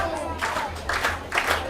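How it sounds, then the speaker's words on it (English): Crowd at a baseball game, the Edenton Steamers hosting the Greenbrier Knights, claps and cheers in a broad ovation at a 3-2 count with two strikes, steady crowd noise with rising bursts of applause. "It's an ovation from the crowd."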